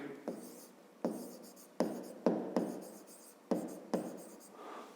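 Pen writing out a 5th-grade math solution on paper, with a series of short, close scratchy strokes and taps in an uneven rhythm, quiet and alone with no talk.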